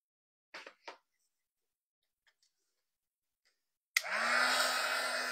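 A hot-air heat tool is used on craft powder. After a few quiet taps and clicks it switches on abruptly and then blows a loud, steady rushing whoosh with a rising motor whine that lasts to the end.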